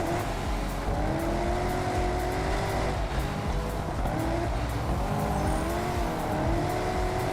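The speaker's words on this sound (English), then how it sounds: "Oh yeah, that's what the pop and bang sound like now" Car exhaust pops and crackles in the racing video game TDU Solar Crown, a steady engine drone with tonal whines and scattered sharp bursts running continuously throughout.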